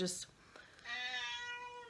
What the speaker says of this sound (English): cats, I love them, but sometimes they can be annoying.